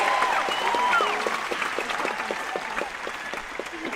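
A large concert audience at a tour show applauds the opening band, with dense, sustained clapping and a few whistles and cheers, loud and steady before slowly tapering.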